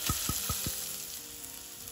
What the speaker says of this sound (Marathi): हे ओलं खोबरं छान या तुपामध्ये भाजून घ्यायचं आहे आपल्याला।